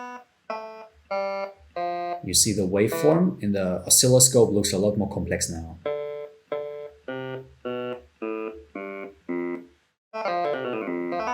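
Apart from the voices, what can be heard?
web audio synth playing a custom piano-like periodic wave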